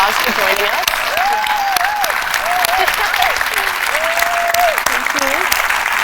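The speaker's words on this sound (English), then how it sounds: "I'd like to give the audience also a round of applause for joining us." Steady audience applause fills a conversation event at the School of Visual Arts, sustained and close for about six seconds, with a voice speaking over the clapping throughout.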